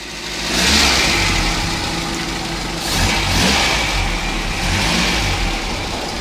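Close-up of a Tofaş Şahin car engine running after being started and revved three times, each rev rising in a loud swell before settling back to a rough idle.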